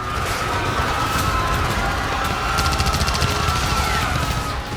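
Dense, rapid bursts of gunfire rattle continuously, loud and chaotic, with overlapping shots and no clear pauses.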